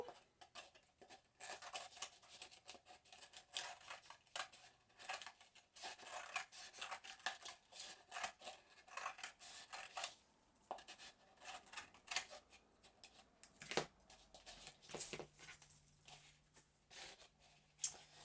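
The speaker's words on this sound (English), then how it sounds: "I'm going to take a pair of scissors and I'm just going to trim around the edge of my bowl" Close, dry snipping and rustling as scissors trim the edge of a papier-mâché bowl, in irregular bursts with short pauses.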